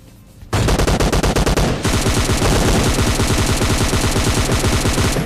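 Gunfire in PUBG Mobile Lite: a short burst, then sustained rapid automatic fire, loud and close, continuing to the end with no talk.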